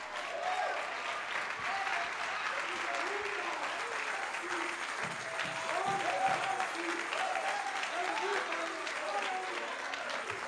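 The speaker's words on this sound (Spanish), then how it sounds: "si se atreven desde sus asientos a darle un aplauso de alabanza" Church congregation applauding in praise from their seats during a Spanish-language service, steady dense clapping that runs continuously throughout with voices talking and calling out over it.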